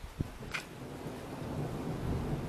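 Thunder from a nearby lightning strike during a summer thunderstorm at Vougy: a sharp crack, then a low rumble rolling on under faint rain and wind.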